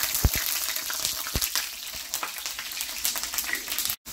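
Garlic cloves fry in hot oil for a Bangladeshi bharta, a steady close sizzle with occasional louder pops and crackles, no voices.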